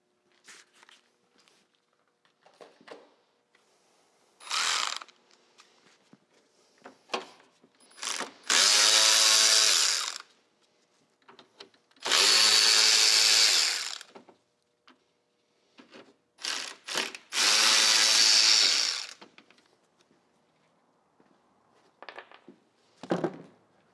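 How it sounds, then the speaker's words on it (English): A power tool on a Subaru WRX removing the 10 mm bolts that hold the radiator fan housing, heard as three long whirring bursts of a few seconds each, with shorter clicks, ratchet taps and handling noises between them, close and loud. "we can remove the 10 millimeter bolts here that hold the fan housing"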